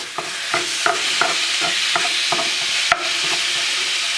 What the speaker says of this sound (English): we're just going to break this all up like we do with ground beef.